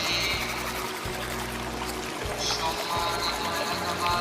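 Water pours steadily from a tap as a cartoon character washes hands and face, a continuous splashing stream alone at close range.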